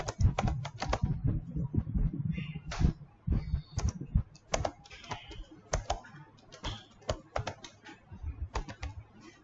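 Rapid clattering keystrokes on a computer keyboard, close and fairly quiet, coming in irregular bursts with short pauses between them.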